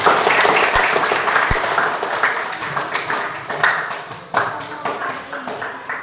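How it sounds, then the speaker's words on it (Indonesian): A classroom bursts into applause, many hands clapping at once, loud at first and then thinning into scattered claps with a few louder taps near the end. "mari kita beri tepuk tangan dulu"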